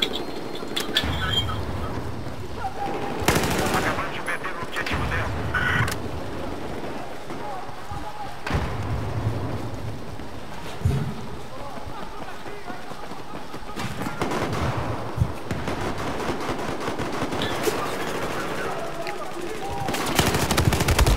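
Repeated bursts of gunfire in the video game Battlefield 4, sharp cracks and rattling volleys scattered throughout, with a person talking over the shots.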